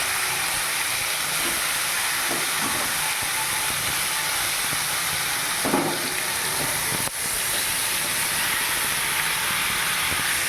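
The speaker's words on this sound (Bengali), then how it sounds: "এবার চিকেনটা তেলের মধ্যে দিয়ে দেবো।" Marinated chicken drops into hot oil in a home kitchen and sizzles steadily, a loud continuous hiss with a few faint clatters partway through and no voices.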